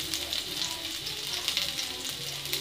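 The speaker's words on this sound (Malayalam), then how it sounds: "അതിലേക്ക് കടുകിട്ട് നല്ലതുപോലെ പൊട്ടിച്ചെടുക്കുക" Mustard seeds crackle and splutter in hot coconut oil in a pan, a steady sizzle dotted with quick popping bursts, close and continuous with no talking.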